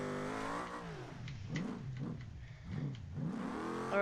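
Car doing donuts on a dirt track, its mid-pitched engine revving in repeated rising and falling surges that loop with each spin, loud and steady throughout without any talk.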